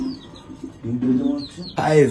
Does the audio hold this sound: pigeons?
yes